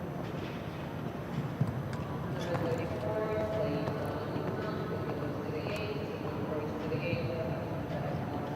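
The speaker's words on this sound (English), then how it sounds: "and on course Denver at the NRPS stud book, a Dutch riding horse and pony stud book" Horse hooves clip-clopping at an outdoor-arena CSI3* showjumping event, steady rhythmic hoofbeats under continuous announcer commentary about a Dutch riding horse, with faint crowd ambience.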